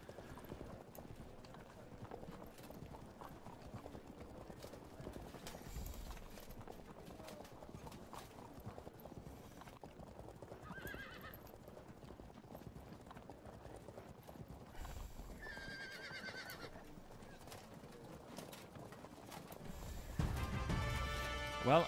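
Horses of horse archers in the Field of Glory II strategy game clop in a continuous, faint rhythmic patter of hooves with mechanical clatter, steady throughout with a louder burst near the end.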